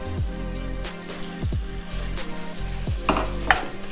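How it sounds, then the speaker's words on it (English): Ground beef sizzling in seasoning in a pot, with a soft steady fry broken by spoon scrapes and clinks against the pot at intervals. "So I'm gonna go ahead and put in my ground beef."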